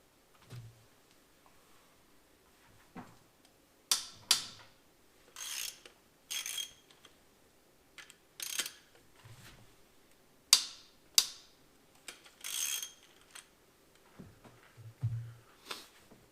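An E12 Torx socket and ratchet crack loose the connecting rod bolts on a BMW N54 engine from an E93 335i. Sharp metallic clicks and ratchet bursts come in separate spurts with quiet pauses between them, close to the engine.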